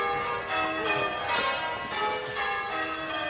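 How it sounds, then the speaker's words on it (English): Church bells ring continuously on the walk to a church, their loud overlapping tones sustained and droning without pause. "Can someone stop the bells, please?"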